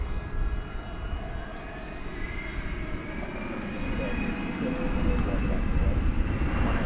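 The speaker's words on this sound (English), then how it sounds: "Heading off into the wild blue yonder, a CRJ 701ER, American Eagle plane going to Provo, Utah." An American Eagle CRJ 701ER jet taking off at night from DFW Airport, a steady engine roar that swells louder toward the end, heard at a distance with a voice talking over it.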